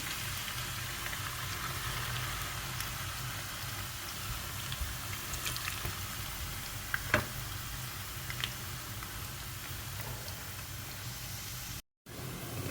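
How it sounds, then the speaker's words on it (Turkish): Soft continuous sizzle of minced meat cooking in a pan, with occasional faint clicks and stirring, steady and fairly quiet throughout. "İlk önce kıymamızı pişiriyoruz."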